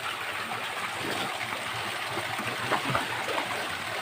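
Water in a Konkan river used for swimming rushes in an even, hissing flow, close and unbroken, with no talking.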